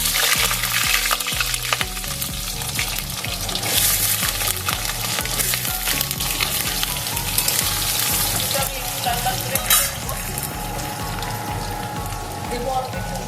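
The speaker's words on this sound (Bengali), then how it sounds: "প্রথমে আমি আলুটা ভেজে নেব।" Potatoes fry in hot mustard oil in a wok, giving a loud, dense, steady sizzle close by, with a rhythmic low thumping underneath throughout.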